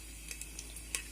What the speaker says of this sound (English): It's spluttered beautifully.